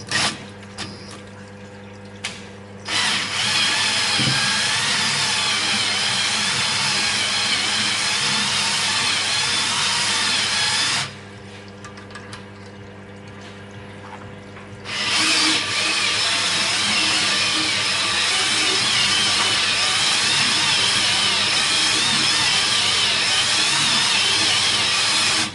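A power drill spins a hone inside an RB30 engine cylinder to deglaze it, a loud continuous whirring grind with a brief drop to quieter running in the middle before resuming at full strength.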